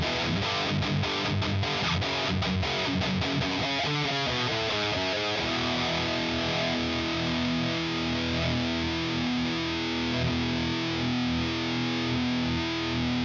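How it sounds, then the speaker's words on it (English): Electric guitar solo tone from a Fractal Audio processor, with heavy distortion layered over other solo effects, plays loud, sustained notes and fast runs continuously, with no talking. "when I go to the solo tone, I now have more distortion along with the other effects that I use for solos"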